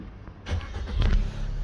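A 2021 Suzuki Swift Sport engine cranks and catches, a brief starter burst followed by a low, steady idle rumble close by, with no talking.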